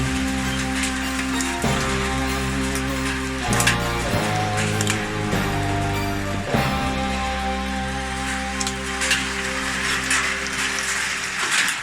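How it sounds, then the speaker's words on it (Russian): Gravel-sized hail pelts down during a summer shower in Vidnoye, a dense, steady patter of hard pellets on surfaces close by, with short bursts of heavier clatter and no voices. "Вот, пожалуйста, град размером со щебень."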